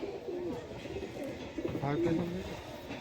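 Domestic pigeons, including a male bird, coo softly in short throaty bursts near the middle, under a low murmur of background noise and faint talk.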